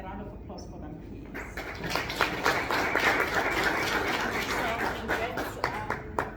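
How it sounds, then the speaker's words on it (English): An audience at a live panel discussion breaks into applause, a dense burst of clapping that swells and then thins out, heard under a speaker's voice. "A round of applause for them, please."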